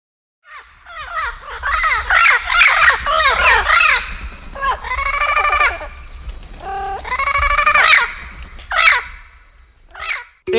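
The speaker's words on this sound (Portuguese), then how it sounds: "Este é o som de um papagaio." A parrot calls repeatedly in a rapid series of harsh, squawking and whistled cries, some rising and falling, loud and close with a low background hum and no talking.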